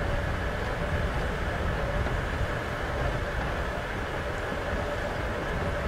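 Train ride in the game Before The Storm: a steady, loud rumble of a moving railcar, low and continuous, with no clear voices over it.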